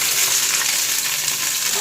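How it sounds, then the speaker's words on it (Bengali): Okra pieces frying in a pan of hot oil give a steady, close sizzle with a bright hiss that holds without a break and has no talking over it. "ভেন্ডিগুলো ভেজে নিই।"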